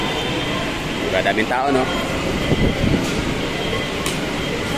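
An MRT train rumbles past in Metro Manila, a steady rolling roar with brief squeals, while a person talks over it.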